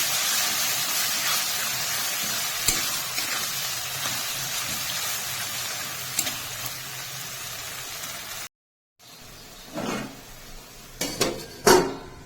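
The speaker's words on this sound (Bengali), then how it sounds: "বেগুন দিয়ে মশলার সাথে ভালোভাবে কষিয়ে নিতে হবে" Eggplant being stirred and fried with spices in oil in a pan, a steady sizzling hiss with clinks of a utensil against the pan, a brief pause, then sharper scraping and clatter toward the end.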